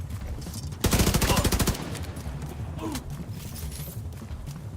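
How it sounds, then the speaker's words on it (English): Rapid burst of heavy gunfire from a sniper turret in The Division 2, a loud run of closely spaced shots lasting under a second, then quieter game ambience with scattered distant noises. "Oh, that is a sniper turret"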